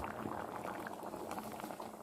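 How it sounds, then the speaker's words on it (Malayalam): Coconut rasakalan curry bubbling at a rolling boil in a pot, a soft, continuous burble of popping bubbles that stays fairly quiet throughout, with no talk. "അപ്പോൾ അതാ നന്നായിട്ട് തിളച്ചിട്ടുണ്ട്."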